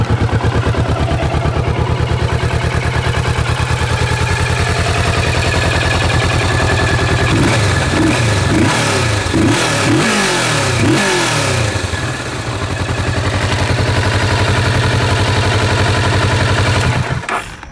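A 2016 Kawasaki Vulcan S motorcycle engine idles loud and close with an even beat, then revs several times in quick bursts before settling back to a steady idle.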